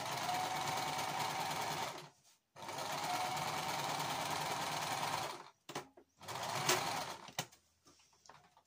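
Sewing machine stitching fabric for a tissue case, running in rapid buzzing bursts of about two seconds each, separated by short pauses and a few brief handling clicks near the end.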